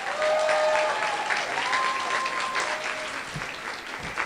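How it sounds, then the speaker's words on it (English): A crowd applauds contestants at a convention masquerade, steady dense clapping at full strength that thins slightly toward the end, with faint whoops in the mix. "one final round of applause for all of our contestants"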